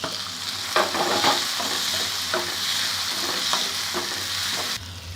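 Tomatoes go into a hot frying pan with a bright, steady sizzle, joined by a few scraping stirs of a utensil, close and loud with no voices.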